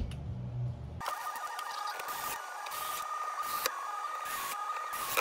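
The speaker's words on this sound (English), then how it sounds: "there's six little screws that get put in." Six small screws being driven into an electrical panel cover during a campervan electrical install with an EcoFlow Power Kit: a run of short, evenly spaced whirring bursts with brief pauses between them, steady and fairly close, with no talking.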